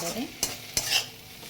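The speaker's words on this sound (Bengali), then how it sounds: "বেগুনটা দিয়ে এটাকে ভালো করে চলো এটাকে একটু কষিয়ে নেবো বেগুনটাও বেশ ভাজা হয়ে যাবে" Eggplant stir-fried in a pan over a low flame, with two sharp spatula scrapes against the pan over a faint, steady sizzle and no talking.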